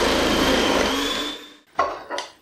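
A food processor with a grating disc whirs loudly through carrot and cabbage, its motor winding down and stopping, followed by two short clattering knocks.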